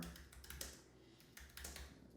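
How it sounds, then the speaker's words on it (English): Quiet typing on a computer keyboard, with short bursts of key clicks, a brief pause in the middle, then another run of keystrokes. "Please don't mock my typing."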